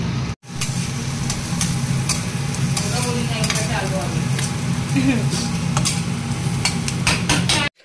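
Roti and chapati pieces stirred and fried in a pan, a steady loud sizzle with scraping stir strokes throughout, a brief dropout near the start, and a low engine-like hum underneath.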